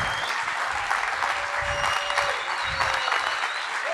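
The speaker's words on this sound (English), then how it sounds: "Come on, keep clapping." An audience of insurance agents at a conference applauds steadily, a dense, even wash of clapping from a large crowd heard for several seconds with no voices over it.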